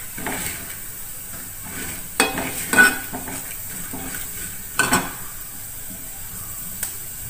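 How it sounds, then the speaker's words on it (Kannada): Moong dal fries in ghee in a pan for payasa, with a soft continuous sizzle broken by a few sharp scrapes and clinks of a spoon stirring against the metal. "ಇವಾಗ ಇದು ಚೆನ್ನಾಗಿ ತುಪ್ಪದಲ್ಲಿ ಫ್ರೈ ಆಗಲಿ, ಅಲ್ಲಿವರೆಗೂ ಕಾಯೋಣ ಫ್ರೆಂಡ್ಸ್. ನೋಡಿ ಇಲ್ಲಿ ಫ್ರೈ ಆಗ್ತಾ ಇದೆ"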